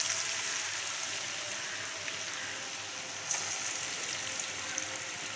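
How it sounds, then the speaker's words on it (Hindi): French fries frying in hot oil on a medium flame, a steady dense sizzle with soft bubbling crackle, close and fairly quiet, with no voices. "अब हम इसको डाल रहे हैं इसके अंदर अपनी फ्राइज़। सारे फ्राइज़ इसमें डाल लेंगे हम।"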